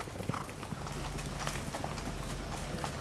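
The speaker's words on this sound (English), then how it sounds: "Most horses move willingly on paths made just for them onto the training track." Racehorses walk along dedicated dirt paths on the Saratoga backside toward the training track, their hooves giving a steady, fairly close clip-clop over outdoor ambience and faint background voices.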